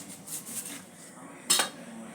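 A knife cuts cauliflower into pieces in a home kitchen, giving soft taps and scrapes followed by one sharper clack against the board, quiet and close.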